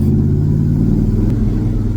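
A car engine with a persistent misfire rumbles loudly and steadily at close range, a low uneven drone with a faint hiccup partway through; no one speaks over it.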